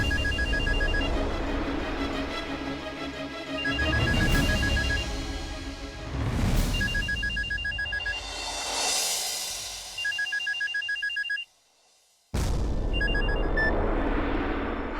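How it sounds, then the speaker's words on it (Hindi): A telephone rings repeatedly in bursts of electronic tones, loud and close, with brief gaps and a short pause near the end. "सुमन बेटा फोन देखो ना।"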